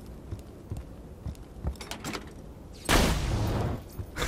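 A sniper rifle fires in Borderlands 2, a single loud sharp crack partway through that bursts broadband and decays over about a second, preceded by scattered softer game clicks and thuds.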